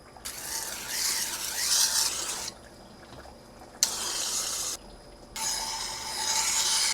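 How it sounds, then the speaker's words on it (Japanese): A Japanese blacksmith's steel knife blade is polished against a stone, thinner toward the edge. It makes three loud rasping rubbing passes with quiet pauses between them, close to the microphone. "磨きの場合はここからこっちを磨いていきます。"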